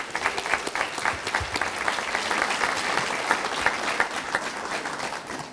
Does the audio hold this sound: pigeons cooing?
no